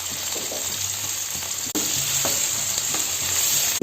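Onion, tomato, green chilli and curry leaves frying in hot oil with fennel seeds for an egg curry, a strong close sizzle with spoon scrapes and a sharp clatter partway through, no talking.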